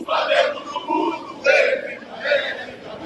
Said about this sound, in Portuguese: Hino do Flamengo, entoado aí